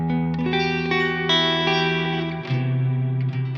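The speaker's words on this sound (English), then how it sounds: "how to create an ambient wash underneath what you're playing" Electric guitar run through effects units for an ambient wash, sustained chords blooming with chorus, reverb and echo into a steady, dense, continuous pad with no talking.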